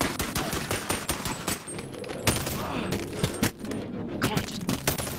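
Rapid gunfire from a red Glock in Halo 3, a dense run of sharp cracks and impacts in quick irregular bursts, loud and close, with game effects and brief voices mixed in.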